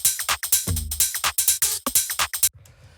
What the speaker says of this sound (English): we have the percussion, which sounds like this.